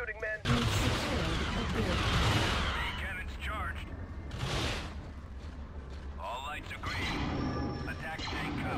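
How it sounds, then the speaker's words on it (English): Booming cannon blasts and gunfire rumble through a Star Wars: Empire at War space battle, with bursts of explosions coming and going and voices speaking over the din. "Good shooting, men. Cannons charged."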